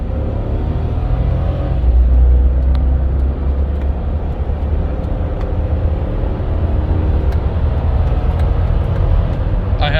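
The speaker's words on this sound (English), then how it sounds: "We'll do a hard acceleration real quick to show you the transmission's in healthy shape." A 2002 Land Rover Discovery II accelerating hard with the pedal to the floor, its engine a loud steady rumbling drone that swells early and holds strong for the whole stretch.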